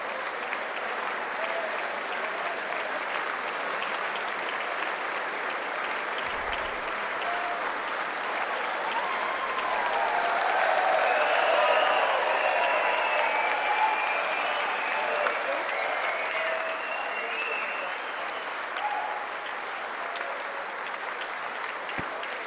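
Applause fills a large chamber during the 2020 State of the Union address, a continuous even wash of many hands clapping at a distance, swelling slightly midway with faint voices and cheers underneath.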